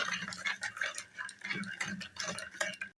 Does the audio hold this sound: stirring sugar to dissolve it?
yes